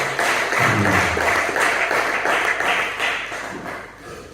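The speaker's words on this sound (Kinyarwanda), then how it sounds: "Mumfashe nawe tumukomere amashyi menshi." Congregation in a church in Uganda applauding a guest, a dense sustained wash of many hands clapping that fills the room and fades slightly toward the end.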